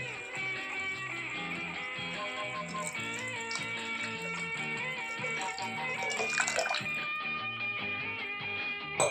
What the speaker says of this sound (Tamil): இப்போது இது கூட அரை லிட்டர் தண்ணி ஊற்றிக்கிறேன்